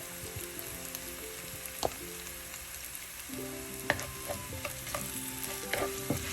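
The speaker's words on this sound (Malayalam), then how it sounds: "എല്ലാം കൂടെ വഴറ്റാം." Chayote sautéing with a pinch of turmeric for thoran, a soft continuous sizzle with clinking spatula stirs and scrapes, close and without voices.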